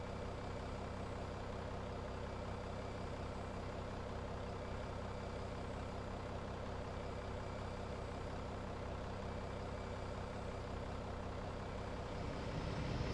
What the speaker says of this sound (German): Und jetzt hört man auch, wie das Triebwerk gerade angegangen ist.